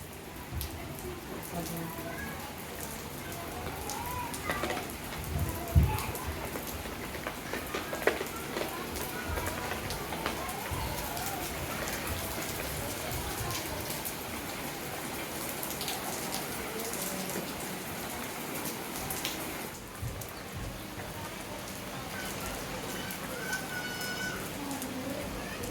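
Rain falls steadily on surfaces around a family home, a continuous patter lasting throughout with occasional bird calls and people talking now and then.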